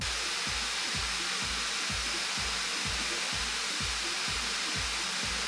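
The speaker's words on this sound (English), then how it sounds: "Now, in terms of the fans, you will hear a video now." Lenovo Legion 7 16-inch gaming laptop cooling fans: constant loud whoosh with broad airy noise, plus a steady low rhythmic pulsing thump repeating about twice a second underneath.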